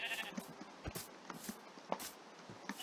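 Sheep in the video game Minecraft give a few short bleats over soft in-game footsteps and ambient noise, moderately loud and with no talking.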